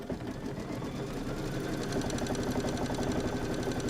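An embroidery machine stitches out a Kimberbell appliqué block in a sewing shop, giving a fast, steady, rhythmic needle patter with a low mechanical hum that stays even and close throughout, with no voices.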